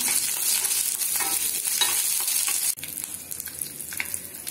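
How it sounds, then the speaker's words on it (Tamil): Green chillies, garlic and ginger sauté in a hot pan, sizzling loudly and steadily with scraping stirs; the sizzle drops abruptly partway through, then continues a little softer. "2 பச்சை மிளகாய், ஒரு பல் பூண்டு, இஞ்சி எல்லாம் போட்டு நம்ம வதக்கிக்கலாம்."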